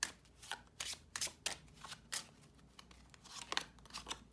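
Tarot cards are shuffled close up in a run of quick, crisp riffling bursts with short pauses between them, alone and at low volume.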